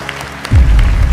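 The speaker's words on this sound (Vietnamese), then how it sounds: "Vỗ tay." An audience at a Vietnamese Táo Quân 2022 comedy stage show bursts into loud, dense clapping after a brief quiet moment, and keeps clapping steadily.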